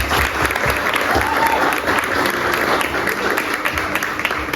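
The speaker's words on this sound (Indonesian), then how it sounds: "Tepuk tangan dong" An audience at a book discussion event applauds loudly and steadily, dense clapping filling all four and a half seconds with faint crowd voices mixed underneath.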